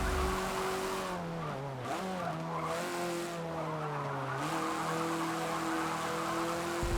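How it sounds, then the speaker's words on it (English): Car in Forza Motorsport 7 racing game skidding through an extremely wide turn, with sustained tire squeal sliding in pitch over a steady engine drone, loud and continuous with no talk. "As I immediately make an extremely wide skidding turn that allows the first place driver to get away from me."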